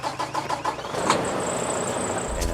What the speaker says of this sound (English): We're gonna go ahead and start it up.